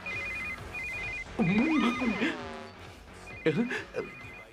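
A phone rings with a repeated electronic trill in short bursts, while a person speaks over it in the middle and again near the end.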